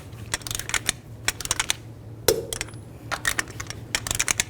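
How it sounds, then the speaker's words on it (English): A torque wrench tightens the front wheel lug nuts on a 2010-16 Buick LaCrosse in a star pattern, producing rapid bursts of close, sharp metallic clicking in short clusters separated by brief pauses. "Now I'm going to torque the lug nuts to 111 foot-pounds in a cross pattern or a star pattern to tighten the wheel down"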